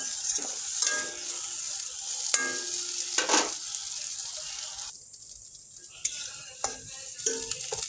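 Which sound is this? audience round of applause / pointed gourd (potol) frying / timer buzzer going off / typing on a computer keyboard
pointed gourd (potol) frying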